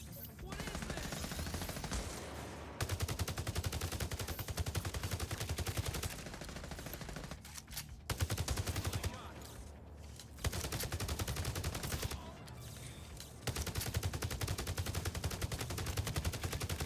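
Sustained automatic gunfire from a shooter game, The Division: Resurgence, with dense, rapid bursts running almost continuously and only brief gaps, loud and close throughout, with game voice lines mixed underneath.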